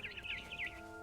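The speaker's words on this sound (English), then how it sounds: "Then I heard chirping outside my window." Barn swallow chirping outside a window in the video game What Remains of Edith Finch, a quick run of faint, high twittering notes over a low ambient hum.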